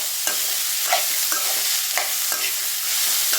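Bottle gourd and onion stirred and fried in a pan over low flame, with steady sizzling under repeated scraping strokes of a spoon, close and moderately loud, no voices.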